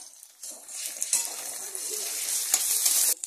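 Ingredients fry lightly in a pan for paneer do pyaza, a steady soft sizzle with occasional stirring scrapes and faint utensil clinks, close and continuous without talk.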